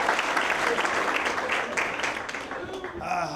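A stand-up comedy club audience applauding, a close, fairly loud patter of many hands clapping that thins out and tapers near the end, with a few scattered voices in the crowd.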